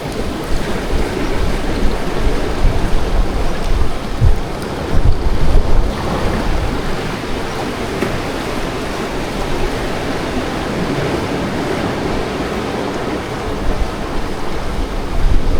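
Ocean surf rolling and crashing at Dibut Beach, a loud continuous wash of broadband noise with swells of intensity and wind across the microphone; no talking.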